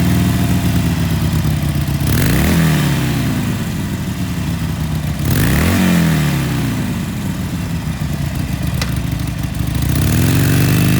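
A 2019 Harley Davidson Sportster Iron 883 cruiser's V-twin engine runs loud and close, a deep lumpy idle broken by two throttle blips that rise and fall, with no talking.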